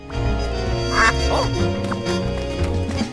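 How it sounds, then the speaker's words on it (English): A cartoonish duck quack from the video game Duck Detective sounds once, loud and close, over a moody jazz-style soundtrack. "There's even a dedicated quack button."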